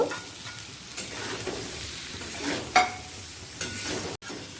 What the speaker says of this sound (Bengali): এরপর ভেজে রাখা আলু আর ফুলকপিটা দিয়ে আরও একবার ভালো করে কষিয়ে নেব